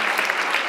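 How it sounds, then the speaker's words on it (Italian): Audience applause at an Italian school seminar session, a steady burst of clapping from a room of people, loud and continuous through the whole short moment with no voices on top. "Daniela, un applauso a Daniela, ragazzi."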